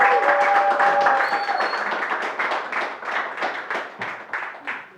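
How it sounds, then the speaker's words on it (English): A studio audience at a couples game show gives a round of applause, scattered clapping that tapers off into lighter individual claps, with voices mixed in. "A round of applause for all of them."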